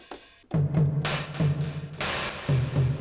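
A drum pattern through a Roland MC-505's lo-fi multi-effect, with a gritty, crushed character: thumping low kicks and bright snare hits repeating in a loose groove, with no voices.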